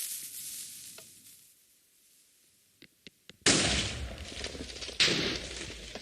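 A video game cannon fires after a few sharp mechanical clicks: a sudden loud blast with a hissing roar, then a second burst a moment later, sustained and close.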